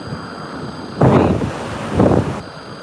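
Ocean waves washing in at a beach with freezing water, two surges of surf rising and falling over a steady windy rush.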